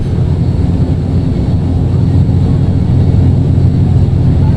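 An ATR 42-500 turboprop climbing out after takeoff in a flight simulator, a steady, loud low engine drone that holds constant with no talk over it.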